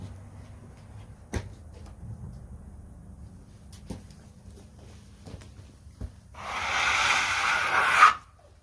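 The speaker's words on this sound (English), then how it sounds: "I'll scrape these real quick" Freshly milled black walnut crotch wood slabs scraped by hand, a few faint knocks and handling sounds, then a close, steady rasping scrape lasting about two seconds near the end.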